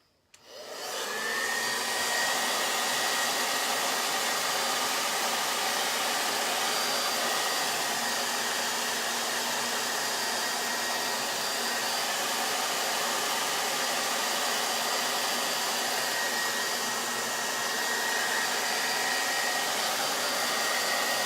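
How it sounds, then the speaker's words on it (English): A hair dryer switches on and blows steadily at close range for about twenty seconds, drying thick acrylic paint on an abstract floral canvas. Its even, full roar runs alone, without talk. "I'm gonna blow dry this just a little bit."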